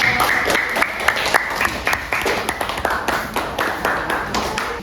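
Students in a chemistry classroom clap for a group, a small group's brisk, fairly close applause with individual claps standing out, lasting a few seconds.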